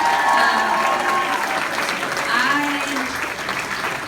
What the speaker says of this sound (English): please just give all of them a big round of applause